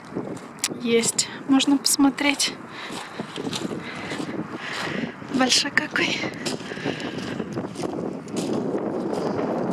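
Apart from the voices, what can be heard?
strong wind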